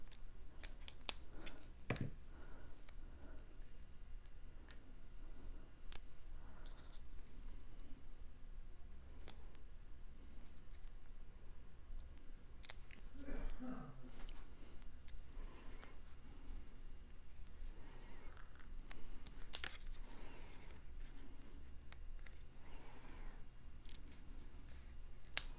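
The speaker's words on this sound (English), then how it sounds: "Grab some scissors. I have to cut this because it's too wide." Scissors snip through the paper of a Santa snow globe box card, several quiet, scattered cuts over a faint steady hum, with no talking.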